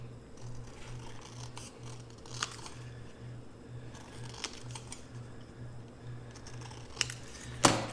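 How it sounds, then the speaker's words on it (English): Scissors snipping paper to make a pocket for a belly band accordion-fold journal, faint close snips spaced irregularly over a soft steady hum, with a sharper crisp cut near the end. "Let me just cut this out and I'll show you."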